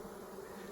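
Honey bees buzz inside an open beehive, a faint, steady, close-up drone that holds its pitch without pause.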